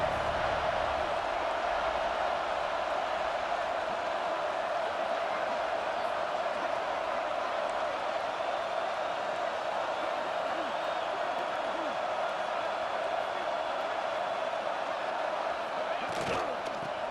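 A steady crowd roar rises from a virtual stadium during a college football game against Tennessee, in EA Sports College Football 26, as the home fans urge the defense on in the red zone, a continuous dense wash with a brief sharp burst near the end.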